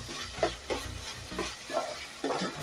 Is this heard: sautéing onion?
yes